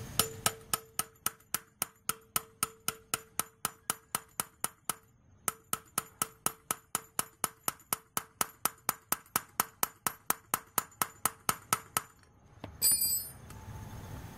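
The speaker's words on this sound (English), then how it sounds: "I'm just going to try to tap it on a little further with the open end wrench" An open end wrench taps a scooter brake rotor onto its hub in a long run of evenly spaced metallic pings, bright and ringing, with one short pause midway and a scuffle at the end.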